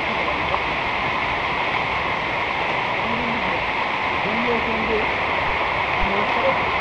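Rising stream water near Napittachora waterfall on the Mirsarai trail, with a continuous broad rushing roar that stays steady and close throughout, as voices talk faintly over it.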